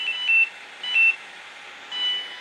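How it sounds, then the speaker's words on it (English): An anti-aging laser skin device gives its misapplication error signal: three short, fairly loud electronic beeps spaced about a second apart, with a quiet steady hum between them and no talking. "if you misapply the device, it makes a different sort of sound"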